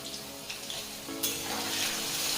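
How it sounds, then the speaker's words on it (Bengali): Potato pieces fry in well-heated oil for a jackfruit curry, a steady close sizzle that jumps to a louder, fuller hiss as they go in, then holds even. "তেল ভালোভাবে গরম হয়ে গেছে এখন এতে আলুগুলো ভেজে নিচ্ছি"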